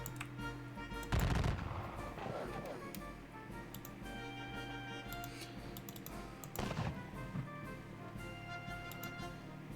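Gunfire in a Battle of Waterloo video game: two loud bursts of musket volleys amid scattered lighter shots and crackling, with a voice speaking over parts of it.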